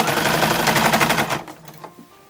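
A sewing machine stitches binding onto the sleeves of a toddler's summer dress in a fast, close rattling burst of needle strokes that stops after about a second and a half, followed by a few faint clicks.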